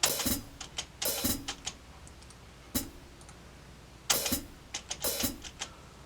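Sharp, crisp hi-hat hits tick in a sparse electronic pattern, some ringing open and others short and closed, with quiet gaps between.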